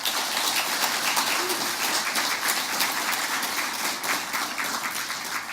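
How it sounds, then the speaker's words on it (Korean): Warm, steady applause from an audience greeting a visiting delegation from the home country, dense clapping at an even level throughout with no voices over it. "여러분께 뜨거운 박수 한번 부탁합니다"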